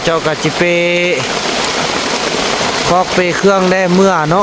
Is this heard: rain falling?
yes